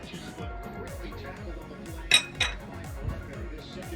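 A spoon stirs Jamaican rice and peas with coconut milk in a pot on the stove, making soft rhythmic scraping strokes and a couple of sharp metallic clinks against the pot, with a voice talking faintly.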